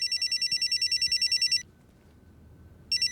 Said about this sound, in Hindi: गुरु का फोन है।